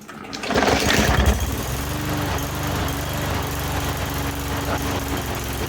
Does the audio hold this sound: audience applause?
no